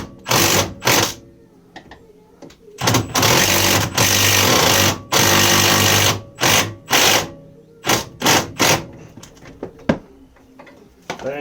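Impact gun tightening the nut on a Mini Cooper R50 coilover, fired in repeated loud close bursts of rattling hammering with short silences between them.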